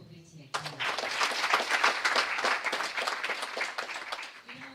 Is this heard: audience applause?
yes